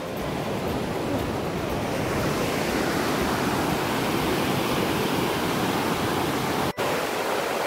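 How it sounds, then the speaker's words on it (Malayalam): Water released through the opened shutters of Peechi dam in Thrissur, Kerala, rushes in a loud, steady, broadband roar that continues unbroken from start to finish, with only a brief dip near the end. "പി ജി ഡാമിൻ്റെ ഷട്ടറുകൾ തുറന്നുകൊണ്ടാണ് ഇത്രയും വെള്ളം വരുന്നത്"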